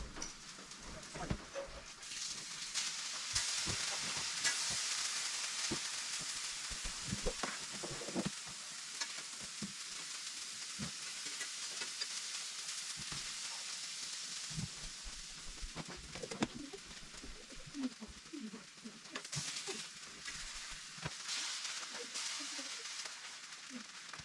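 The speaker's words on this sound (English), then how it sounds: "Let's see how these ones that are frying are doing." Canadian bacon sizzles and crackles steadily in a hot pan, with occasional clinks and scrapes of stirring.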